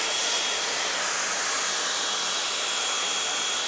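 A Dyson Supersonic hair dryer blows on curly hair with a loud, steady, breathy whoosh that holds unchanged throughout, close by and with no voices.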